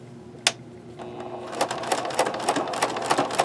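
A sewing machine with a sharp needle stitches a denim notebook cover, starting with a single clack and then running in a quick, even rhythm of close, rattling stitches.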